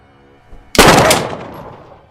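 A single loud gunshot cracks close by in a jungle, then a long echo rolls away and fades over a second or so.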